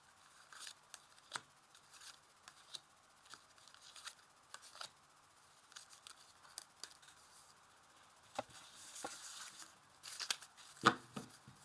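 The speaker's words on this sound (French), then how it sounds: "Je vais tirer 5 cartes au hasard" Tarot cards drawn from a deck at random, with faint sparse flicks, slides and soft snaps spaced apart, growing a little busier near the end, close and quiet.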